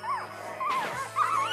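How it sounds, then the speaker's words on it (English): Newborn puppies whimper and squeal nearby in short, high, wavering cries over a low steady background hum. "So the puppies won't shut up. They literally sound like seagulls."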